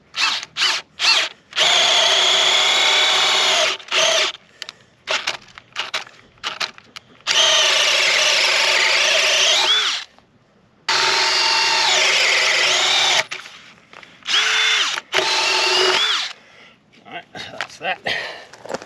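A power drill whirs in several long bursts while drilling holes for a property gate install, starting and stopping with short gaps and a few quick taps in between.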